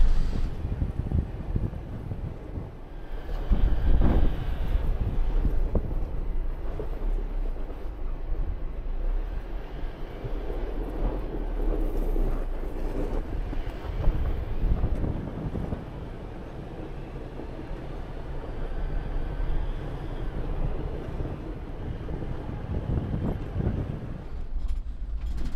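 Strong desert wind gusts across the microphone in Valley of Fire State Park near Las Vegas during a wind advisory, a steady, loud, broadband rumble that fills the whole stretch with no talking.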